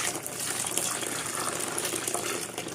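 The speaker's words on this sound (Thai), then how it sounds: "ทีนี้ผมจะเติมน้ำหมัก ผมเตรียมน้ำหมักไว้ ประมาณหกลิตรนะครับ" Homemade fermented lime-peel liquid pours steadily into a container, a continuous loud gushing splash with no break and no voices.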